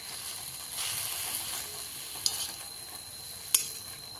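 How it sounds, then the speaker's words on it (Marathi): Fenugreek (methi) leaves fry in a pan while being stirred, making a soft continuous sizzle with two sharp spatula taps against the pan and no talking. "बघा आपण हलवून घेतलेले आहे."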